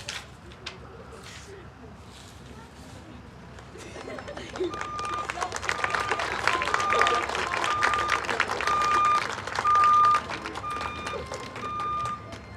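A senior-night crowd at a Culver Academy vs John Glenn game cheers and applauds for the class of 2026 and their families, swelling from quiet murmurs into loud sustained clapping and crowd noise, with a whistle-like tone recurring throughout.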